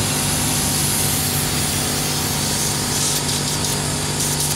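A Lakoni Fresco 130X oilless air compressor runs steadily and loudly, a dense continuous mechanical hum and hiss with a whining tone that holds unchanged throughout, with no voices.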